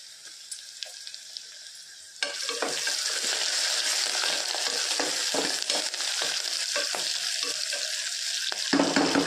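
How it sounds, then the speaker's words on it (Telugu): Slit green chillies dropped into a hot pan of frying curry leaves and onions, bursting into a loud continuous sizzle after a quieter start, with stirring scrapes throughout and no speech. "ఇవన్నీ ఫ్రై అవుతూ ఉండగానే 2 పచ్చిమిర్చి చీలికలు వేద్దాం."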